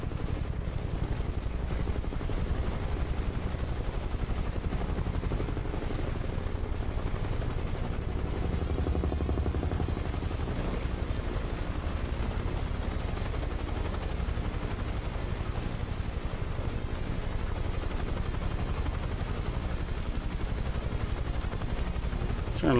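A Huey helicopter in Microsoft Flight Simulator 2020 gives a steady, loud, continuous rotor and engine drone that carries on unbroken throughout, with no voices over it.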